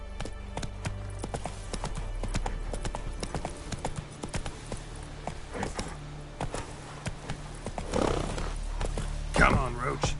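Roach, the horse in The Witcher video game, clip-clops along in irregular hoofbeats with brief snorts, while a voice speaks now and then over the steps.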